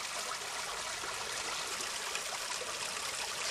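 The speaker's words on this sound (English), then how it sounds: "Stream is flowing pretty good." A snowmelt stream rushes through a wooded hollow after an October snowstorm, a steady, full wash of flowing water that holds constant throughout with no voices.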